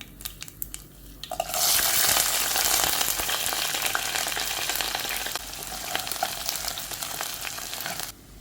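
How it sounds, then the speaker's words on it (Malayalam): Onions, dried chillies and curry leaves dropped into hot coconut oil after mustard seeds pop, bursting into a loud, steady, close sizzle that holds for several seconds with crackles and spattering throughout. "കടുക് പൊട്ടി വരുന്നോടനെ നേരത്തെ അരിഞ്ഞു വെച്ചിരിക്കുന്ന ഉള്ളിയും ഉണക്കമുളകും കറിവേപ്പിലയും എല്ലാം അവിടെ ഇട്ട് കൊടുക്കാം"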